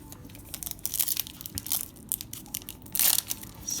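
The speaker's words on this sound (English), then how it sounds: "we got these 10 Celebrations packs that I will gently shuffle a little bit." Pokemon Celebrations trading card packs being shuffled by hand, producing soft, irregular crinkling and rustling of foil wrappers in short bursts, close up and fairly quiet, with no talking.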